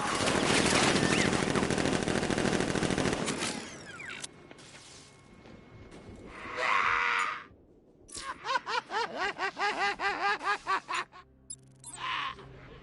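Rapid bursts of automatic gunfire from Batman Arkham Knight, a loud dense barrage at the start followed by separate rattling volleys and gun mechanisms later, with no talk over it.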